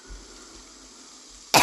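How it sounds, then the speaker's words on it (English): A single short, loud throat clearing bursts out near the end after a quiet stretch of faint room tone, with nobody talking. "Let me just clear my throat."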